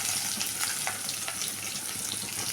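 Sliced large onions and a halved green chili sizzle in a pan of oil for bitter gourd stir-fry, giving a steady, soft crackling hiss close by with small pops scattered through it.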